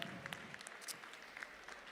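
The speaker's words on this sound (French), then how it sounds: "n'hésitez pas à les applaudir bien fort" Audience clapping at a cat show held at the Salon de l'Agriculture in France, a dense, steady patter of applause from a crowd lasting a couple of seconds, moderately quiet with no voices over it.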